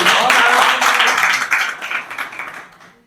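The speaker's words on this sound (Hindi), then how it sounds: "एक बार जोरदार ताली।" A crowd gives loud, dense applause at a Hindi rural literature poetry gathering in a hall in Bhopal, a close wash of clapping that holds strong and then tapers off toward the end.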